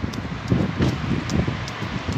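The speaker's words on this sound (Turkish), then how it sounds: "Bu arada çok rüzgar var" Outdoor wind buffets and gusts in rough, uneven bursts against the microphone, with a low rumbling roar that rises and falls, heard alone.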